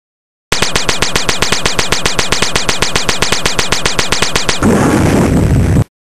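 Rapid blaster gunfire from a Lego Star Wars clone wars battle fires in a fast, even burst of loud shots for about four seconds, then breaks into a noisy explosion that fades out.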